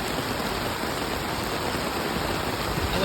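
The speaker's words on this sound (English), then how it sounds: "It is pouring rain in Guyana." Heavy pouring rain in Guyana, a dense, steady hiss and roar that stays loud and even throughout, with no voices.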